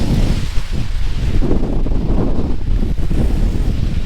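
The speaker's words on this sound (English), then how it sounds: "That thing's pouring down." Heavy rain pours down on a van in a dense, steady roar of broadband wash that stays loud for the whole stretch with no breaks.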